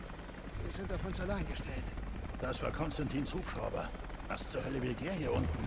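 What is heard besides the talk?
helicopter in video game Rise of the Tomb Raider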